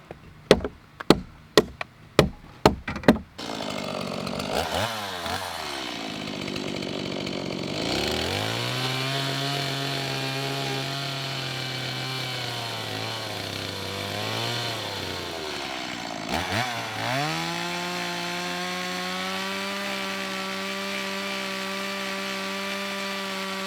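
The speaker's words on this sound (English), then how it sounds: "Fine tune it with a chainsaw." Several sharp chopping knocks come first, then a chainsaw revs up and cuts steadily through wood, dipping in pitch under load, pausing briefly and cutting again.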